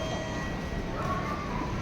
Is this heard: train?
yes